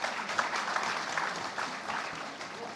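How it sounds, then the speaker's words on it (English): An audience at an AI research symposium gives a warm round of applause, steady and moderately loud clapping from a large room. "please give a warm round of applause for Dr. Manish Gupta."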